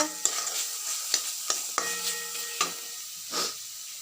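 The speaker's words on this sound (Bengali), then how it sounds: "দিয়ে ভালো করে এটা নেড়ে চেড়ে নিয়ে কষিয়ে কষিয়ে নিই তেল ছাড়া ছাড়া হয়ে যাক" Chicken filling for stuffed pointed gourd stirred and sautéed in oil in a pan, a steady close sizzle broken by several sharp scrapes and knocks of the spoon against the pan, with no talking.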